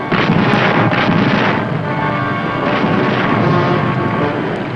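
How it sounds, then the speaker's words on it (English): The WWII submarine USS Wahoo fires its deck guns at a freighter: loud, rumbling blasts in two heavy bursts roll into a continuous roar, with no talking. "the Wahoo attacked another freighter with her deck guns"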